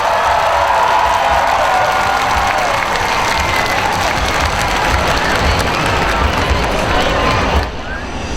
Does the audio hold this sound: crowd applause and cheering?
yes